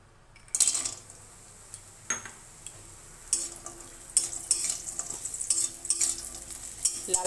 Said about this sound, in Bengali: তেলটা দিয়ে বড়িটাকে ভেজে নেব।